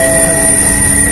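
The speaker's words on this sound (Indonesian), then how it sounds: "Kereta tiba, Rasuna Said." An LRT train arrives at Rasuna Said station in Jakarta, a loud, close, continuous rumble with high steady wheel and motor whines, heard alone for about a second.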